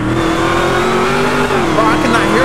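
A loud car engine in GTA 5 revs hard and continuously at a car meet, a close, roaring drone with pitch rising and wavering, while people talk over it.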